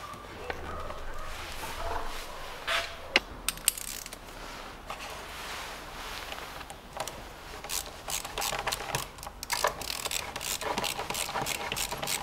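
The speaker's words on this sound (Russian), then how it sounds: "Затягиваю хомут." A ratchet tightens a hose clamp on the throttle of a 2007 Toyota Avensis 2.0, with bursts of rapid metallic clicking over a steady background hum, close and moderately loud.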